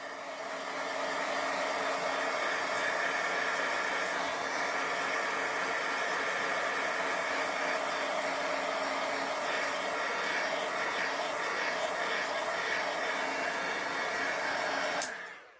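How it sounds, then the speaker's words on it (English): A heat gun blows steadily over pigment-sprinkled paper to dry it, a loud, continuous hissing roar with a faint whine, running unbroken for most of the stretch before a brief click as it cuts off. "let's take the gun to it just a little bit more"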